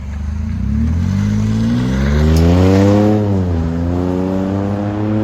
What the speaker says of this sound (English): Colorado with a regular MAGNAFLOW 14-inch body instead of a MAGNAPACK